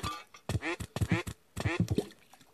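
Cartoonish duck quacks from the video game Sling Birds, a string of about five loud, close, nasal calls in quick bursts separated by short pauses.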